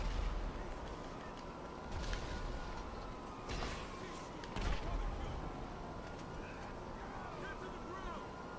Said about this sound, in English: This guy is shooting in passive mode